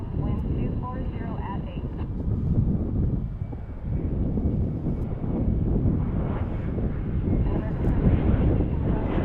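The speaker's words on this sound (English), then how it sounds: "Looks like we get a MAX appearance here, a 737 MAX 8 for American Airlines." American Airlines Boeing 737 MAX 8 jet airliner at Dallas, a steady broad engine roar with wind buffeting the microphone, heard under someone talking.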